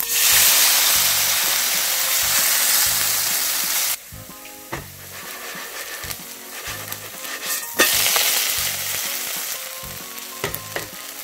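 Potato pancake batter spread thin in a hot pan sizzles loudly and steadily, with brief scraping and stirring breaks as the frying carries on close by.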